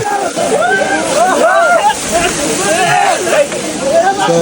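Water pours and splashes from a tap or spout during an outdoor bath on a trip between Nagarkot and Mustang, a loud, continuous sloshing that runs through the whole stretch with bubbling swirls.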